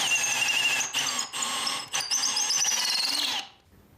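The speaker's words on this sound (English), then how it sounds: "I drilled 2 vertical holes on the drill press" A drill press bores holes in wood for a coffee table, giving a loud, close, whining drone with shifting squealing tones. Brief dips mark pauses in the cut, and it winds down at the end.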